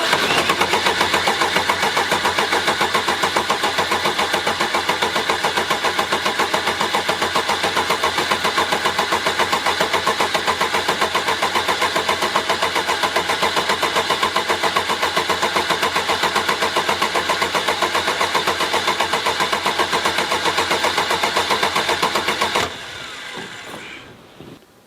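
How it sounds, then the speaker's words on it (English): The diesel engine of a Mercedes-Benz W124 cranks loudly and rhythmically for over twenty seconds, struggling to catch, before the noise cuts off abruptly into near quiet. "So first, I will show you how it starts now. It's awful."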